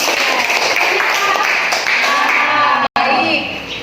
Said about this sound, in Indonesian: tepuk tangan untuk Chelsea